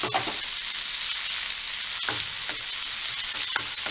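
Finely chopped cabbage and carrot for a veg momo filling sauté in a hot pan, giving a steady, close sizzle with occasional scraping stir strokes throughout, and no voices.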